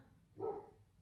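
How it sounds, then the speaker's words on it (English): One short, muffled bark comes from a dog outdoors, faint and far off through the walls, with near silence before and after. "you can probably hear my dog barking outside"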